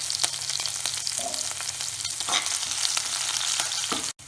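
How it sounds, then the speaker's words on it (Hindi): Chopped green chilies frying in a pan for poha, a steady close sizzle with occasional stirring scrapes and crackles, no voices. "अब मिर्च भी अच्छे से भून चुकी है"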